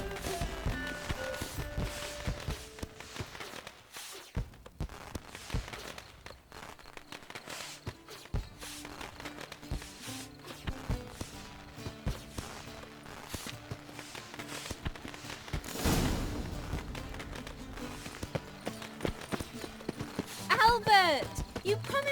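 Horse hooves clip-clop on the ground in The Witcher 3, a steady run of close, distinct hoof strikes with scattered louder thumps and a brief burst of noise partway through; speech is also present in the clip.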